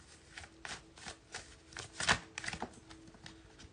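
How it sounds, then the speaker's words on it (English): Oversized tarot cards shuffled by hand in a steady run of soft, rhythmic riffling taps, close but quiet, with one louder clattering burst midway. "These cards big as hell. They hurt my hand shuffling."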